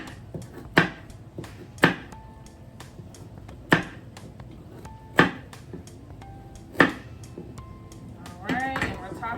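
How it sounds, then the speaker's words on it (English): A knife chops carrots on a cutting board in sharp, separate strikes at an uneven pace, close by, with a short rustle near the end. "Let's just cut our carrots up."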